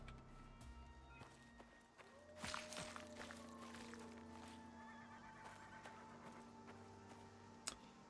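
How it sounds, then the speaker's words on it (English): A horse whinnies in the survival video game Icarus amid hoofbeats clip-clopping at a run, with game ambience and tonal hums underneath and a sharp click near the end. "I heard a horse"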